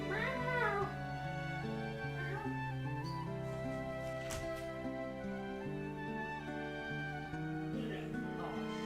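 A house cat meows and yowls repeatedly over about nine seconds, close to the microphone, with drawn-out wavering cries and a steady low hum underneath.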